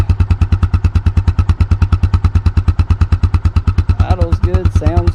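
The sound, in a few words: 2002 Arctic Cat 500cc engine idling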